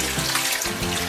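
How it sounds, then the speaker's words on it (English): Hot water runs from a tap into a sink, a close, steady rushing splash that holds throughout. "I got some hot tap water."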